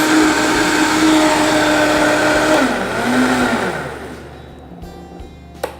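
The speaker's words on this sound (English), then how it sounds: "then we're going to blend. You want to blend maybe 20-30 seconds" A countertop blender whirs at full speed as it blends nut milk, a loud steady motor roar with the pitch dipping partway through before it winds down into quiet near the end.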